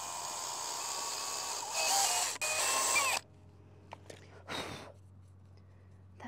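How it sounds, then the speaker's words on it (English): A power drill bores a hole in a cork in a garden setting, its high motor whine running steadily for about three seconds before stopping, followed by a few short handling clicks and one brief rustle. "I can use the one that's currently on the drill for our drip tube."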